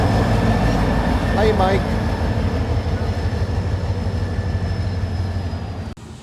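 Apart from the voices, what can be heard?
train locomotive L585 shoving railroad cars through a wye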